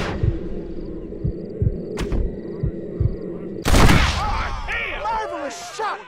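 Red Dead Redemption gunfight: about half a dozen sharp, evenly spaced gunshots crack over a low background, followed by a louder burst of noise; a voice speaks afterward.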